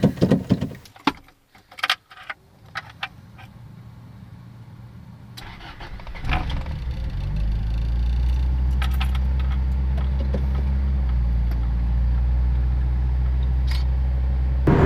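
Keys jangle at first, then an AE82 Toyota Corolla's 4AGE engine starts and settles into a steady, loud running rumble close to the microphone in the engine bay.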